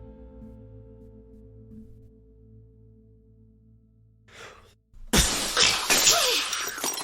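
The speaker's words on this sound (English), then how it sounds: "glass shattering," Glass shatters with a sudden loud crash after a quiet ambient drone, the bright breaking burst followed by a few seconds of tinkling, raining debris.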